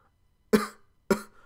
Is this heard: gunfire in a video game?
no